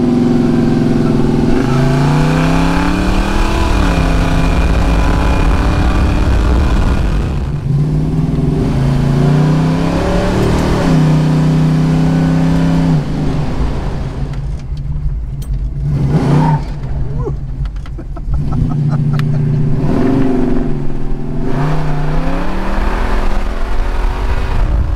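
A white Camaro accelerates hard with its engine revving loud and close, pitch climbing through several gear changes, easing off briefly, then pulling strongly again.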